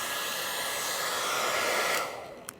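A hair dryer runs at maximum heat, a steady loud rushing whoosh that holds for about two seconds, then is switched off and winds down, with a short click near the end.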